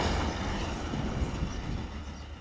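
A Pakistan Railways train passing a railway station, with a steady, loud rumbling roar of rolling stock heard throughout and no voices.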